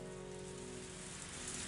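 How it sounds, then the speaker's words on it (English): Rain in the Higurashi game sounds as a brief, steady, dense hiss of falling drops, even in level throughout, with no voices. "The rain came down on me."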